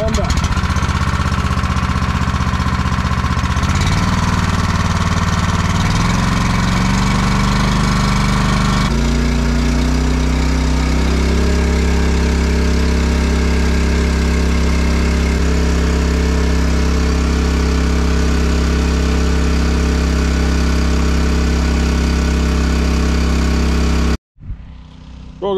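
A Honda water pump engine starts with the choke on and then idles at a steady, loud drone that shifts pitch slightly as the throttle settles, before cutting off sharply near the end.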